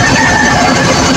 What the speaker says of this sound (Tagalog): Grabe, hinog yan ang makina. Ito ang DA16.